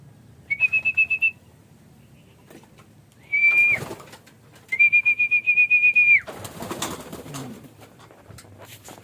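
Racing pigeons arriving back at their loft on a training day give several clear whistled calls in short bursts, with a pulsing rhythm, separated by quieter gaps and followed by a rustling flutter near the end.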